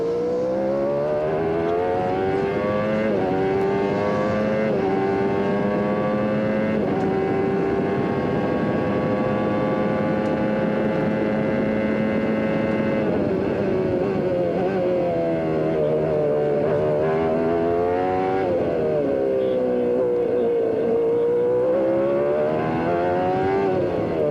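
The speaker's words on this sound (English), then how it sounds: "Listen to those gear changes." Onboard a 1994 IndyCar race car at Mid-Ohio, a loud, steady high-revving engine whine rises and falls with repeated gear changes throughout, heard close and alone.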